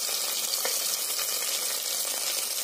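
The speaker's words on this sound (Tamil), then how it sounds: "சோம்பு பொரிஞ்சதுக்கப்புறம் வெங்காயத்தை ஆட் பண்ணி நல்லா கிளறி விட்டுக்கலாம்." Sliced onions frying and being stirred in hot oil with fennel seeds and star anise for a chicken curry, a dense, continuous close sizzle with faint scraping and no talk.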